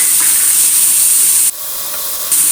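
Chopped onion and crushed garlic hitting hot oil after mustard seeds, giving a loud, steady, close-up sizzling hiss that briefly drops and then surges again.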